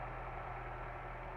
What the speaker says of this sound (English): Idle the engine and allow it to warm up slowly.